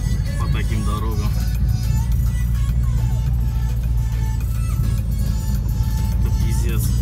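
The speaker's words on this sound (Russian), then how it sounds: "Смотрите, как машина гудит по таким дорогам." A car engine hums steadily with a low rumble while driving over a rough road with no asphalt, heard from inside the car under continuous talking.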